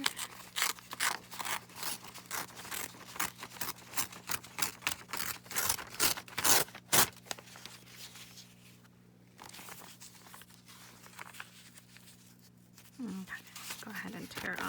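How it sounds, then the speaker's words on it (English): Paper torn by hand around a cut-out for a music-themed gratitude journal page, a run of rough ripping and crinkling bursts, close and fairly quiet, then a lull with faint handling noise. "I'm going to go ahead and just tear around this."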